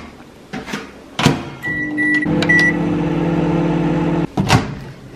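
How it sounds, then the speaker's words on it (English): A few short electronic beeps and clunks, then a microwave oven hums steadily for a few seconds before stopping with a click and a door clatter. "2 minutes in the microwave."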